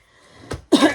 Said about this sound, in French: Moi, j'ai une petite toux comme ça tout le temps.